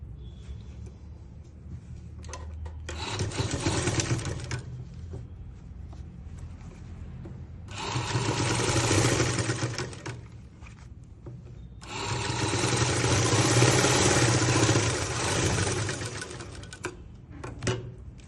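Sewing machine stitching a shirt with a normal single stitch runs in three loud bursts, short, medium and then longest, separated by quieter pauses, with no talk over it.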